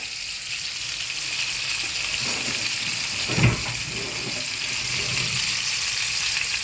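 A frying pan sizzles steadily and loudly on a stovetop as a köfte dish is made, with a brief clatter partway through and no clear talking.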